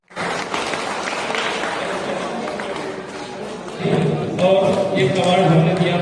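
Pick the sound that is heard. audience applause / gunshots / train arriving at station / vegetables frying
audience applause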